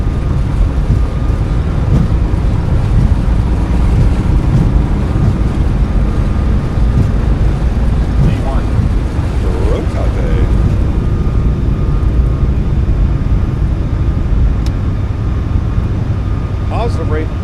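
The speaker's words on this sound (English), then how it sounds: "Takeoff power set." Boeing 737 MAX 8 jet engines at takeoff power in a flight simulator, a loud steady low roar and rumble filling the whole stretch, with faint voices mixed in.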